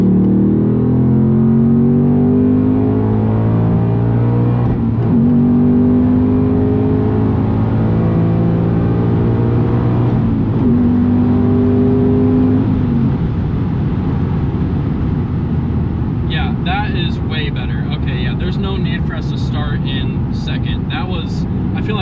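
A Ford Mustang Dark Horse accelerates hard from around 4,000 rpm in third gear, its engine note climbing in long rising sweeps under steady cabin roar, with a voice speaking inside the car.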